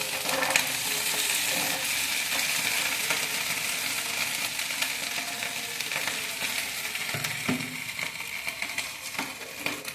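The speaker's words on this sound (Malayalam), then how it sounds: "എന്നിട്ട് നമ്മൾ ആദ്യം കട്ട് ചെയ്ത് വെച്ചിരിക്കുന്ന വെണ്ടയ്ക്ക അതിലേക്ക് ഇട്ടിട്ട് വഴറ്റണം." Cut okra sautés in coconut oil with a steady, moderately loud sizzle, accompanied by occasional clinks and scrapes of a spatula against the pan.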